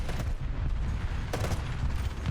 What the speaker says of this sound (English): We're getting machine gun from somewhere in there.